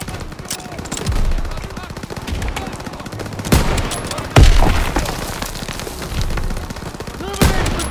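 A Call of Duty WWII battle from Operation Cobra: scattered rifle and machine-gun fire with a few heavy booms over a constant combat din, several sharp loud cracks standing out.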